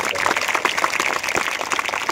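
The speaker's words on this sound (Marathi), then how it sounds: "जोरात टाळ्या होऊ द्या" An audience at a school building groundbreaking ceremony claps in a short burst of dense, steady applause at moderate distance.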